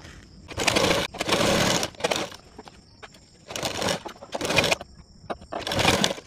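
A sewing machine stitches a blouse in bursts of fast mechanical whirring, about six runs of roughly half a second to a second each, separated by short pauses, loud and close.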